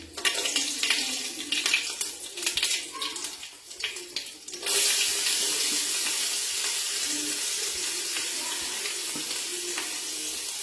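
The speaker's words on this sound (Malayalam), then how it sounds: "നമ്മളെ കടുക് പൊട്ടി തുടങ്ങി." Mustard seeds tempered in hot oil for a soya chunk fry start with light clattering and scattered pops, then break into a loud, continuous sizzle and crackle that holds steady to the end.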